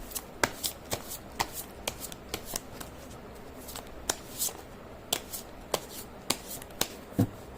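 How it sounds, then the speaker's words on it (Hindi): A deck of tarot cards is shuffled by hand nearby, producing a quick irregular series of crisp riffling snaps and flicks over a quiet background. "मैं कर लेती हूँ कार्ड की शफलिंग।"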